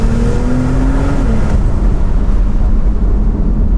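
A Brabus-tuned Porsche 911 Turbo S Cabriolet, remapped from 650 to 720 horsepower, accelerates hard with a loud, close engine roar that climbs in pitch, then shifts and carries on as a broad rushing drone.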